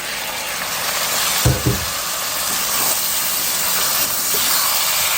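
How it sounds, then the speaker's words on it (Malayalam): Water goes into beef masala in a hot pan, raising a loud, steady sizzle and steamy hiss close by, with a couple of brief clanks near the start and no voices. "ഇനി നമ്മൾ കുറച്ച് വെള്ളം നമ്മൾ ഒഴിച്ചു കൊടുത്തിട്ട്"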